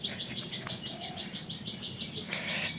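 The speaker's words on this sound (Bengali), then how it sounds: "ঝিঝি পোকার ডাক।" Crickets chirp in a rural Bengal village, a rapid, even pulsing trill that carries on without pause, with faint bird calls mixed in.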